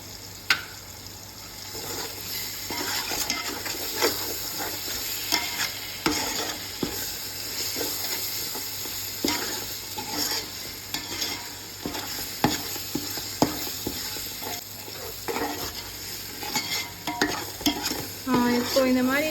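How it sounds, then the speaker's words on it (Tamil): Ginger garlic paste sizzles in a pan for chicken dum biryani, with frequent scraping stirs and clinks of a spatula over a continuous frying hiss, fairly close. "இப்போ இந்த இஞ்சி பூண்டு பேஸ்ட் போட்டுக்கலாம்."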